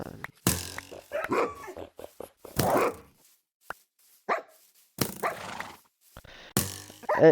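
Dogs in a Minecraft modpack bark in short bursts, several sharp barks and yips separated by brief silences, close and loud.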